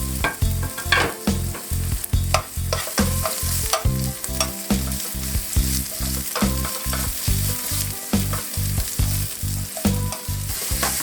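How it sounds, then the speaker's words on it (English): Onion sautéing in oil in a deep, wide covered pan, a lively sizzle broken by a rapid, regular clatter of stirring strokes that continues close and loud from start to finish. "Now a bit of oil into the pan. Let the onion saute for a couple of minutes."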